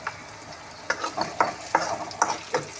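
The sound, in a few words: frying and stirring in a pan until brown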